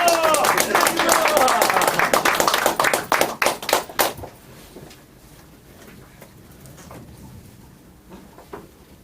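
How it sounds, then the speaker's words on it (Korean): Loud, dense applause from a lecture audience for about four seconds, then thinning into a few scattered claps before the room goes quiet. "나오실 때 가장 좋아하시는 박수로 환영해 주시기 바랍니다"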